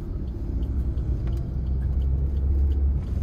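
A manual car moves off from first gear as the driver adds throttle in traffic, producing a continuous low engine rumble that swells slightly toward the end, with no voices.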